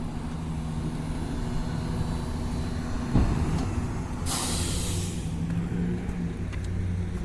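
A Ford truck passes on a city street, its engine rumbling steadily under traffic noise, with a sharp hiss of air brakes midway.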